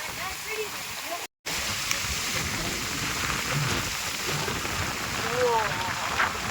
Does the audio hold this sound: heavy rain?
yes